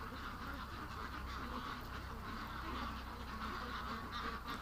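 Ducks and geese honk and squawk in an agitated flurry, a steady mass of overlapping calls at moderate distance over constant outdoor background noise, with no speech.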